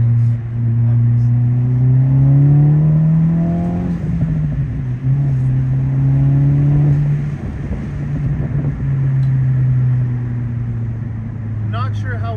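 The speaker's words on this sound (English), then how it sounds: "Definitely some intake noises, some bypass valve noises. Not overstated, definitely drowned out by the exhaust currently." A Honda Civic Type R FL5 with an HKS bypass valve under load: a loud, sustained exhaust drone rises and falls through gear changes, with faint intake and valve whooshes buried beneath it, heard from the cabin.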